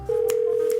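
An incoming call on a phone, a loud, steady electronic ring tone sounding close and alone for just under a second.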